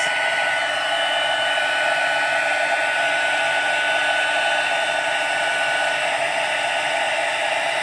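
A heat tool blows steadily while melting embossing powder on vellum, producing a loud, constant, even whoosh with no break for the whole stretch and no voices.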